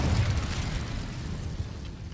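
Incendio fire spell cast in Hogwarts Legacy on PS5, a dense roaring whoosh of flame that stays loud and steady throughout, with no voices.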